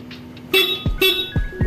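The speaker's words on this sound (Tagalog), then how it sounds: "Ganito yung tunog ng niya, ng busina." Short, bright horn toots from a Bajaj Maxima Z auto-rickshaw sound twice in quick succession, each a brief nasal honk with mechanical clicks between.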